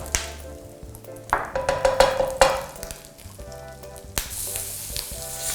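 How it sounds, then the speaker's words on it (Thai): Garlic stir-fried over low heat in a pan for shrimp curry-powder fried rice, giving a steady close sizzle broken by scraping stirs and a few sharp utensil knocks, with no talk. "ตอนนี้ก็เบาไฟลงครับ เดี๋ยวเราจะผัดกระเทียมต่อ"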